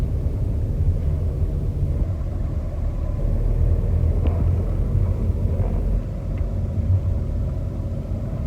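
Car driving in first gear during a driving lesson, a steady low engine rumble with road noise running continuously throughout, fairly loud and close, with no talk over it.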